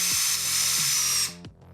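A small Lego Technic electric motor driving engine pistons in a Ford Raptor model whirs at high speed with a busy mechanical chatter, then winds down abruptly near the end, leaving faint clicking.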